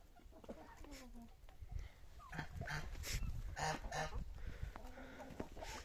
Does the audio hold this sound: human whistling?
no